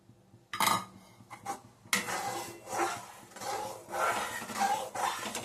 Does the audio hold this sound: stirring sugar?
yes